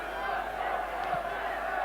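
Football crowd of around 8,000 at Bootham Crescent stadium, York, for a match against Everton, a steady distant roar of voices and murmuring with faint shouts rising briefly, continuous throughout.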